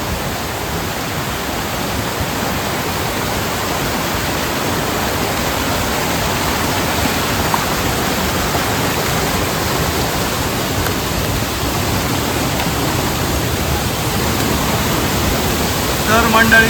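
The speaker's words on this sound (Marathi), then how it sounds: "जबरदस्त धबधबो असा." A newly found waterfall at Mangeli Deulwadi near Ghotge roars steadily during monsoon rain, a dense, unbroken wash of water noise that stays loud and even throughout.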